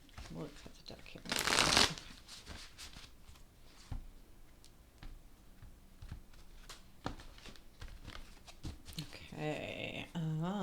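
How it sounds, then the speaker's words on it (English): A deck of tarot cards being cut and shuffled, a brisk riffling burst near the start followed by softer card handling and rustling, close up with no talking. "We'll cut the deck here."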